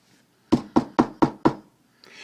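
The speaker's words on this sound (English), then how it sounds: "He knocked on the door." Five sharp knocks land on a door at a steady, even pace, close and distinct, followed by a faint hiss of room noise.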